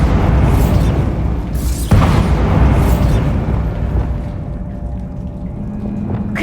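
Bombarda explosion spell going off in Hogwarts Legacy, a loud booming blast with a sharp second burst partway through, followed by rumbling debris that fades into a quieter hum.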